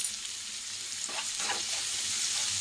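Garlic fries in a pan for spicy garlic rice, giving a steady, fairly quiet sizzle with a brief stirring rustle midway and no voices.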